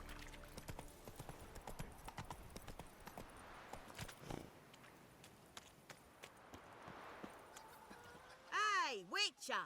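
Roach, Geralt's horse in the video game The Witcher 3, clip-clopping along at a steady walk, ending in a short snort or whinny, with speech over the hoofbeats.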